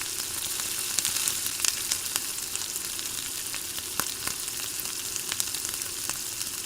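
A large batch of onions fries in hot oil in a wok, giving a steady, moderately quiet sizzle with scattered sharp pops and crackles and no voices.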